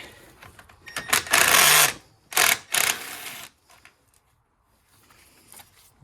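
A 10mm bolt is backed out on a Toyota RAV4, most likely with a ratchet, giving loud close bursts of fast mechanical whirring and clicking, then quieter faint ticks, with no one talking.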